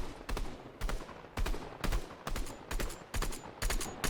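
Gunfire at an enemy in Fortnite Zero Build, loud close bursts of rapid shots that repeat in a fairly even rhythm of short volleys with brief gaps, and no voices.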